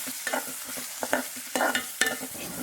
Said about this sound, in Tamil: நம்ம குட்டி குட்டியாக வெட்டி வச்ச வெங்காயத்தை அந்த தாளிப்போட சேர்த்துக்கிறோங்க